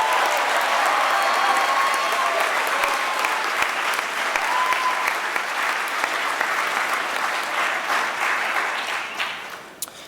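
An audience at a school awards ceremony applauds students, a dense, even roar of clapping that holds steady for about nine seconds, then thins and fades out.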